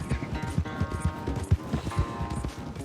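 A slow horse gallops during a race in Red Dead Redemption 2, its hooves beating a quick, steady clip-clop rhythm, close and clear throughout.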